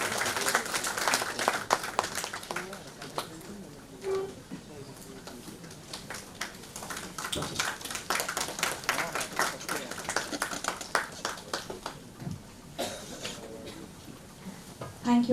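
A conference audience at an inauguration ceremony claps in a dense, continuous patter of many hands, fairly loud and steady for several seconds, with a few faint voices mixed in.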